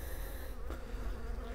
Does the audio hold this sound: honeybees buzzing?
yes